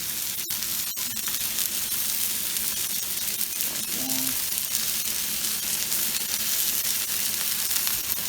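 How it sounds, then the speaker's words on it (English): Garlic bread sizzling on a Blackstone flat-top griddle, a steady close hiss of frying that runs throughout, with a couple of brief clicks near the start and a short low hum in the middle. "We are going to cook that right on the Blackstone."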